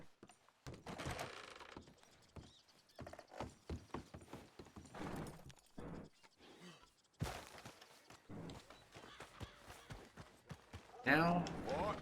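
Horse hooves clip-clop in a steady rhythm in the video game Red Dead Redemption 2, mid-loud under a player's chatter, with a louder burst near the end.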